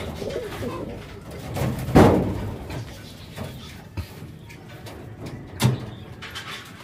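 Domestic pigeons, including a hen being paired with a champion bird, make low soft coos and rustles, with a louder burst around the two-second mark and another near the end, close by and without talk.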